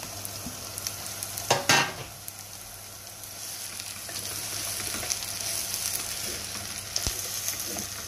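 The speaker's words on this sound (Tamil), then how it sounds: "நாங்கள் இப்போ இதில் இந்த வெங்காயத்தோட பீட்ரூட்டையும் சேர்த்துக்க போகிறோம்" Beetroot and onion fry together in a pan for a Jaffna-style beetroot curry, giving a dense, steady sizzle with a loud scraping stir near the start and occasional light utensil taps.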